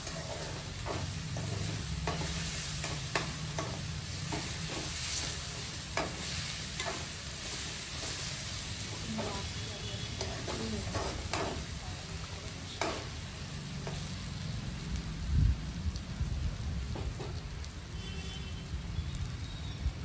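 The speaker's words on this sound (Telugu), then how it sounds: "ఎగ్ బాయిల్డ్ వేసినాక కలుపుతుంటే మస్తు అనిపిస్తుంది." Boiled egg curry being stirred in a pan, a low steady simmer with soft intermittent spoon scrapes and a faint background hum over twenty seconds, no talking.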